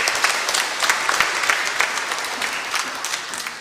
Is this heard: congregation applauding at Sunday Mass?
yes